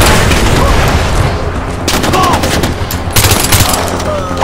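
Heavy gunfire in the Far Cry 4 video game, with dense, continuous bursts of automatic fire and loud booms hammering away close up for several seconds.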